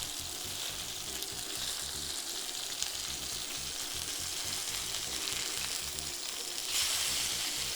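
Salmon fillets fry in a pan on their second side for a teriyaki glaze dish, a steady dense hiss and crackle that swells slightly near the end, with no talk.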